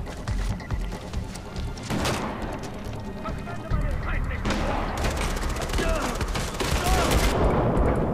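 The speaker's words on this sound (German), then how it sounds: "die Schüsse sitzen aber auch" Gunfire in the video game Far Cry 4: dense bursts of shots and booming blasts that fill the clip with loud, near-constant rattling, while a player talks now and then.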